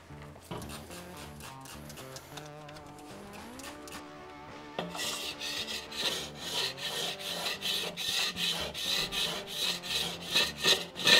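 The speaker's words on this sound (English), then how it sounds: "Using a combination of H2O and my timber scraper, we're gonna slowly make our way down the barbecue, getting rid of all of the really heavy built-up solids" A wooden timber scraper works with water down the casing of a Weber kettle barbecue, rasping off heavy built-up grime in repeated close strokes that grow louder and busier partway through, over a tonal background.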